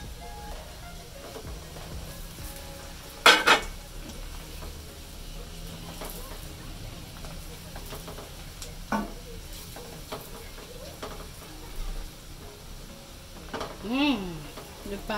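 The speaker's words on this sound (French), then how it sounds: "Je verse les écrevisses." Crayfish tipped into a hot pan hiss with a low, steady sizzle, broken by a few sharp clatters and scrapes of stirring. A faint voice is heard near the end.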